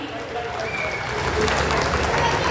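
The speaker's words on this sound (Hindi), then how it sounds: "एक बार जोरदार तालियां आप लोगों की।" Audience applause at a magician's stage show, a steady wash of clapping that swells louder halfway through and continues throughout, with crowd noise mixed in.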